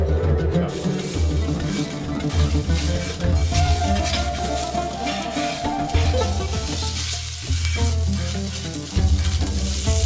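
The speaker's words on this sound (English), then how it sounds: "Now I'm going to make this fat melt in the pan." Wagyu beef fat melts and sizzles in a pan on a high-heat stove, a loud, continuous spattering fry with a low rumbling hum underneath, no talking.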